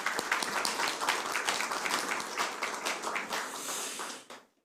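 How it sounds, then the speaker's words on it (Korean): Warm audience applause greets Lee Jae-myung, the Democratic Party presidential candidate, arriving to present his labor pledges in Bucheon, a steady crowd of clapping that holds for about four seconds and then quickly dies away. "따뜻한 박수 부탁드립니다."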